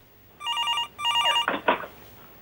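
Telephone ringing on an outgoing call to a caller during a stock advice phone consultation: two electronic ring bursts, then a couple of brief louder clicks or noises, with no talking.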